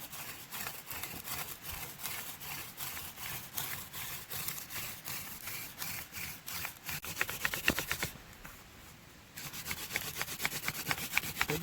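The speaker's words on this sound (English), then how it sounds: "Let's see if I can get my very first hand drill fire." A wooden hand-drill spindle, gripped with pine pitch, is spun back and forth to start a friction fire. It makes a faint, rhythmic scraping and rubbing in quick repeated strokes, with a brief lull near the end before the strokes resume.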